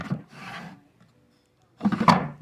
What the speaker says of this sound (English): Got 2 big drawers.